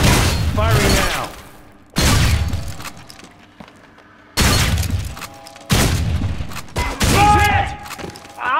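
Gunfire bursts from the video game Deep Black: Reloaded: four loud, broadband volleys with short gaps between them, each crashing and then fading, with game voices and sound effects mixed in.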